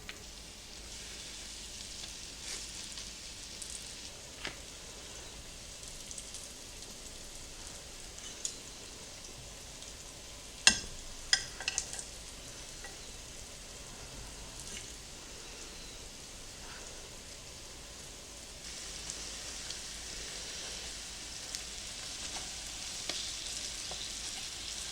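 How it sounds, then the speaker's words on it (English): Pork chops fry and brown in a hot pan with a steady, close sizzle and crackle throughout, a few sharper pops and clatters midway, and no talking. "We're going to let these sit for about 3 to 4 minutes until they get nice and browned and crisp on the bottom side."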